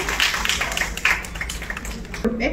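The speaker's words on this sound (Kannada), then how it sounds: "ಎಲ್ಲರೂ ಚಪ್ಪಾಳೆಯೊಂದಿಗೆ ಸ್ವಾಗತಿಸಿ." Audience clapping to welcome guests onto the dais at an eye donation camp event, a dense burst of hand claps filling the short moment before a voice starts speaking.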